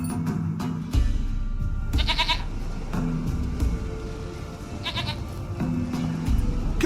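Goat bleating in The Witcher 3, several loud, wavering bleats recurring at intervals over a low game ambience, with no talk.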